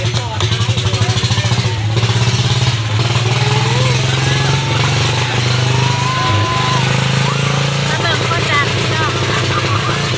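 A small single-cylinder walking tractor engine chugs loudly and steadily up close, a constant rattling drone with a voice talking over it.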